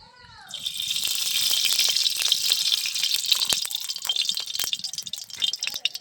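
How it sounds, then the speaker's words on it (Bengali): Ghee heating in a hot wok for carrot halwa, giving a steady loud crackling sizzle that starts after half a second and runs throughout with popping spikes, faint voice murmurs underneath. "এবার কড়ার মধ্যে আমি দিয়ে দিচ্ছি ঘি।"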